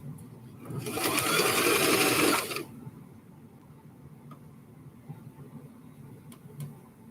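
A sewing machine stitches a hair scrunchie in a single close, whirring run of about two seconds, then stops, leaving a quiet room.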